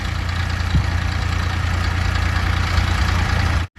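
A tractor engine idling steadily in a peanut field, a loud, close low rumble that holds constant before cutting off abruptly at the end.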